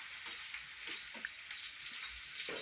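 Onions frying in hot oil for a bitter gourd curry, a faint, even hiss with a few soft crackles throughout.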